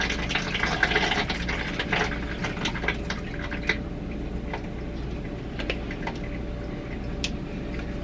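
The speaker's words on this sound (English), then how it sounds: "I'll just go ahead and fill up the toilet though" Water rushes steadily into a toilet tank as it refills, a continuous close hiss and gurgle with small splashes and drips, heard alone without talk.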